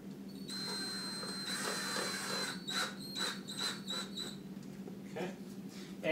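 A powered driver sinks the last screw through the center of a floating bedside shelf: a faint, steady motor whine for a few seconds, followed by scattered soft clicks and taps.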